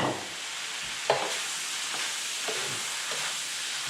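Noodles go into a hot wok with lobster and spices, sizzling and frying steadily while being tossed and stirred, with a few soft scraping clatters over the constant hiss.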